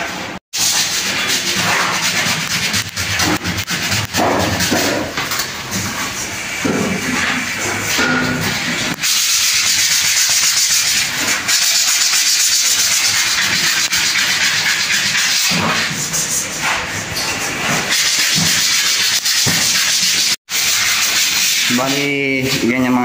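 Sandpaper rasps over drywall putty in steady, continuous back-and-forth strokes, loud and close, with faint talk now and then and a brief break partway through.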